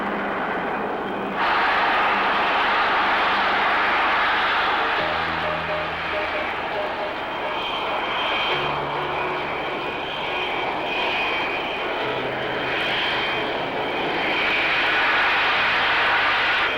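An English Electric Lightning jet taking off, a loud, steady, close roar of jet engine noise that holds for the whole stretch with slight swells, with no talk over it.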